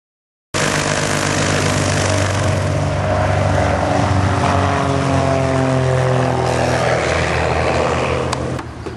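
A small airplane's engine and propeller drone loudly and steadily at an airfield, a close continuous roar that begins abruptly and holds for several seconds.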